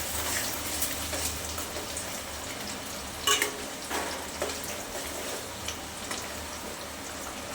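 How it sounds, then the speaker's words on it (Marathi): Finely chopped onion frying in oil, prepared as part of a Konkani chicken dish, with a steady broadband sizzle and occasional louder pops and crackles throughout, no talking. "कांदा छान गुलाबी होईपर्यंत तेलामध्ये फ्राय करून घ्यायचं आहे"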